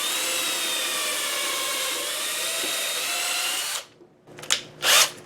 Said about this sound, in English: So we're going to drill 4 holes, and I'm going to pilot the holes first.